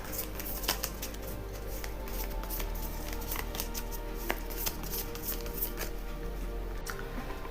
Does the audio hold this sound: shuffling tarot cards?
yes